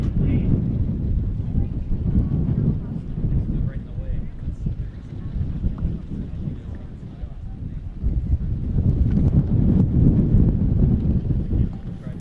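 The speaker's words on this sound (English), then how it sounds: "Still quite windy here, but it's not affecting launch." Strong wind buffets the microphone at the Antares rocket launch site, a constant deep rumbling roar that surges louder toward the end with no break.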